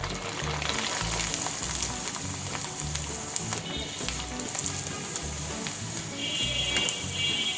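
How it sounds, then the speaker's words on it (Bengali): Rice flour pitha, a Bangladeshi flower-shaped snack, deep-frying in hot oil with a steady, loud bubbling sizzle, joined by soft rhythmic low thumps and occasional clinks near the pan, with no talking. "আমি সবগুলো পিঠা ভেজে নিলাম।"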